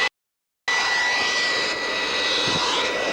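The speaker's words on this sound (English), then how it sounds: "The Ugandan presidential jet" Ugandan presidential jet carrying President Yoweri Museveni, arriving at Bole International Airport in Addis Ababa in December 1986, its engine giving a loud, steady roar and whine after a brief gap, with no voices.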